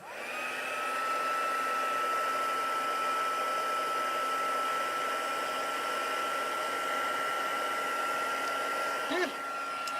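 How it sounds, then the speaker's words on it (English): A handheld heat tool for stencil crafting blows with a close, continuous whir and a thin high whine. It spins up at the start and keeps a steady pitch throughout, with a brief bump near the end. "let me grab my heat tool real quick"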